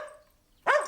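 A dog gives a single short, sharp bark at the end of the clip, close and fairly loud, after a fading voice in a French animated series.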